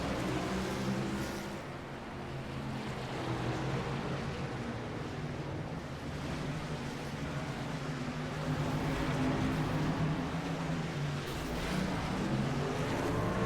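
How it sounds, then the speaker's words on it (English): Race trucks in a racing video game drone past, engine noise blending into a dense, continuous roar at steady loudness with no talk over it. "Coming through that big pack of AI cars, here he comes again."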